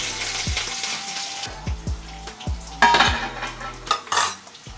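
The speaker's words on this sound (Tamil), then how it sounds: "கருவேப்பிலை சட்னி தாளிச்சுக்கலாம். கடுகு கொஞ்சம் உளுத்தம் இருக்கு." Mustard seeds and urad dal tempering in a pan for curry leaf chutney, with repeated metal stirring and scraping knocks and crackling sizzle, close and fairly loud, no talk.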